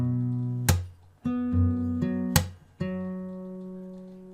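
Slow fingerstyle acoustic guitar phrase, open strings ringing with percussive body slaps between notes, several sharp attacks spaced across a few seconds, close and clear with no talking.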